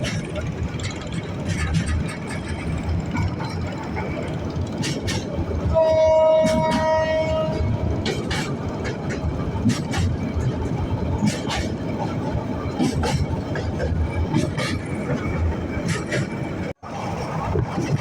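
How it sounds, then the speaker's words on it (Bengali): A train crossing a railway bridge over the Sankha River on the Chattogram to Cox's Bazar line, heard from aboard with a constant rumbling clatter of wheels, a brief horn blast partway through, and some talk. "আমরা শঙ্খ নদীর উপর দিয়ে রেলওয়ে ব্রিজ দিয়ে শঙ্খ নদী পার হচ্ছে"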